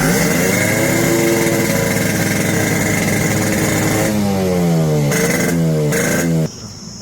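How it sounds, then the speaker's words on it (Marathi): A Yamaha RX100 motorcycle with a carburetor problem idles loudly up close, its two-stroke engine running at high revs before dropping in pitch and being blipped several times, then cutting off abruptly near the end. "तर पहिला चालू करून बघूया गाडी."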